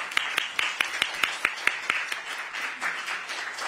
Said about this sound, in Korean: 박수로 맞아주시겠습니다.